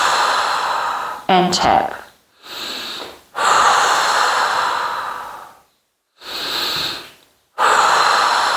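Long, audible inhalations and exhalations during a mat Pilates exercise, repeated in several drawn-out breaths separated by brief silences, with a short spoken phrase early on.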